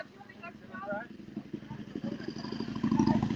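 Vehicles drive past outside Mar-a-Lago with a low engine rumble that swells toward the end, while a person talks nearby over the traffic.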